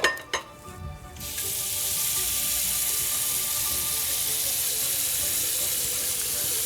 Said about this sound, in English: putting them into the sink in a bowl of cold running water